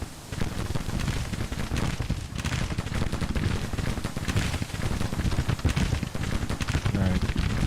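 Civil War brigades exchange musket fire in the strategy game Grand Tactician, a sustained crackling fusillade of overlapping shots that rattles on without pause.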